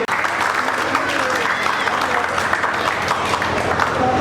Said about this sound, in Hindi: तालियों के साथ तालियां बजाएं उनके लिए